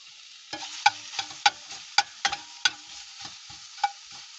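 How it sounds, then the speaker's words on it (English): Bacon fries in hot fat in a pan inside a campervan, a steady soft sizzle broken by sharp clicks and scrapes of a spoon stirring, close and quiet. "the bacon is slowly getting brown"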